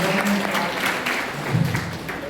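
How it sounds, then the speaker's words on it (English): Applause from the audience at a National Education Day session, a brief burst of steady clapping that fills the room without any talking over it. "A big round of applause for a friend."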